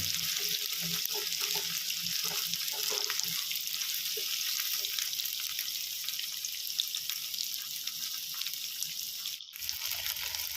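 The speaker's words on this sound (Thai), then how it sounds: "เราจะทอดไปเรื่อยๆนะครับ ให้เขาเหลืองกรอบนะครับผม" Battered shellfish frying in hot oil until golden and crispy, a steady close sizzle and crackle running throughout.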